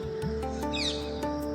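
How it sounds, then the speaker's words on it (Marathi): A parrot calls from among trees outdoors, giving a brief burst of quick, high chirping squawks at a moderate distance over a steady background hum. "पण आत्ताच झाडाच्या इथं एक पोपट गेलाय।"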